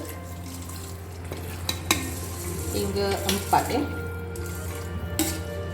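Water is poured into a pot of rice with fenugreek and black pepper while cooking nasi lemak, a close trickle and splash with clinks of the pot under brief talk.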